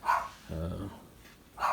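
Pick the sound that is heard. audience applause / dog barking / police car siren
dog barking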